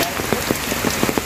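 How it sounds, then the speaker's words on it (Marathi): Rain falling outside during a heavy monsoon spell, a constant hiss with scattered drips and patters landing on a nearby surface, brief and steady. "इकडे बाहेर मस्तपैकी असो पाऊस पडता"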